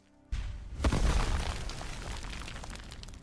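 An explosion in heavily modded Skyrim: a sudden loud boom that hits after a brief quiet moment, then a rumbling blast that slowly fades out.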